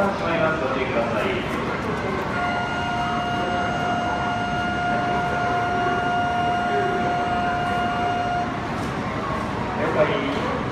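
Yamabiko Shinkansen bound for Morioka departing Tokyo Station platform 23, a steady rumble with a long sustained tone from the platform, under station bustle and voices.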